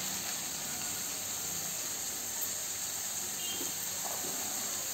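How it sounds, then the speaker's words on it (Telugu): Bay leaves, cloves, a cinnamon stick and marathi moggu frying in hot oil for green chicken, giving a steady close sizzling hiss that runs unchanged throughout with no voices. "2 బిర్యానీ ఆకు, 2 లవంగ మొగ్గ, చిన్న చెక్క, 2 మరాఠీ మొగ్గ కొద్దిగా వేపుకుందాం."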